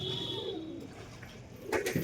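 A pigeon in a loft gives a soft, low coo, fairly faint and close, followed by a brief rustle near the end, with no speech.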